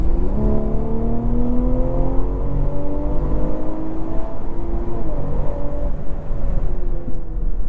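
A 2024 BMW M340i Special Edition with its B58 engine pulling hard under acceleration, a loud droning growl climbing steadily in pitch through the gears from inside the cabin, with no voices.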